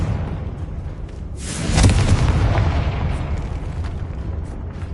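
A Confringo fire spell goes off in the video game Hogwarts Legacy, a loud, full booming blast that swells, then rolls on as a long rumbling roar, with no voices.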